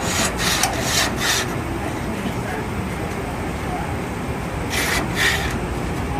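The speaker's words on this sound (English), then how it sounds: "right here there's a crossbar where you can take this, just scrape it all along" A scraper is dragged along the crossbar of a Nieco broiler to clear residue, producing a steady coarse rasping rub over a dense noisy background, with a few brighter strokes near the start and end.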